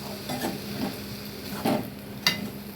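Coriander, mint and curry leaves are stirred in a hot pan with the stove switched off, giving soft scraping sizzles and a few sharper utensil knocks, close up, with no talk.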